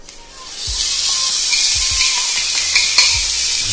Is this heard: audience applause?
no